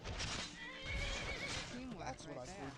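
A horse whinnies in the fantasy video game Skyrim, a warbling neigh mixed with game sounds and hoofbeats while a person talks over it throughout.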